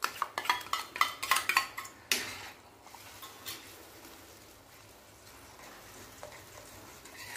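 Moong dal halwa stirred in a pan over medium-low heat, with a quick run of sharp spoon-on-metal scrapes and clinks at first, then softer, sparser scraping over a quiet background.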